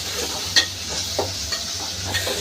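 Onion, garlic and ginger paste fries in hot oil with a constant sizzle, punctuated by a few light stirring scrapes and clicks of a spoon, no talking.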